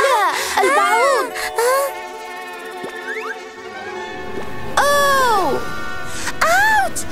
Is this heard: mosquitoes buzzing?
yes